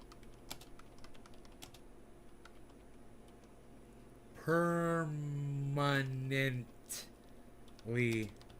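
Soft, quick keystrokes on a computer keyboard tap out a short message, faint and close, before a voice starts speaking over the last few seconds.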